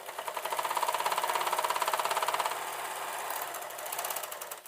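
A sewing machine stitches a Christmas stocking in a steady rapid run of close, moderately loud mechanical ticks, pausing briefly before another burst of stitching.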